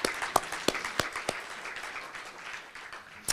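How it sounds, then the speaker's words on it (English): At a regional vision launch event, one person's sharp, distinct hand claps ring out near and fairly loud, followed by scattered, fainter applause from the room. "I'll clap first."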